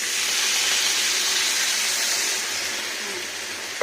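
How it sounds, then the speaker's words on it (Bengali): Filtered water poured into a hot pan of potatoes for aloo posto sends up a loud, steady steam hiss that holds throughout and eases slightly toward the end. "এখানে দিয়ে নিচ্ছি জল, এটা পরিষ্কার ফিল্টার করা জল।"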